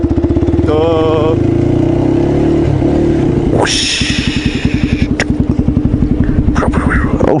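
Motorcycle clicked into gear and pulling away, loud throaty engine under an open rider microphone, steady chugging pulses after a shift as it accelerates; a brief voice is heard over the engine.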